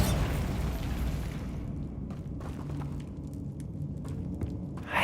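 A Bombarda spell explosion in Hogwarts Legacy erupts at the start with a loud, broad blast, then decays into a low rumbling tail with scattered faint pops and crackles.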